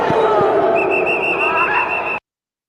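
A sustained high whistle blast rises over a loud, roaring crowd, lasting over a second before everything cuts off abruptly.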